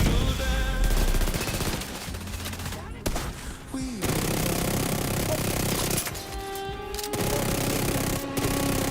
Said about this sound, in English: Oh, I hate those turrets.